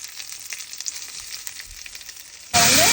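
Scattered faint crackles and pops give way to a sudden loud, steady sizzle of mustard and cumin seeds hitting hot oil close up.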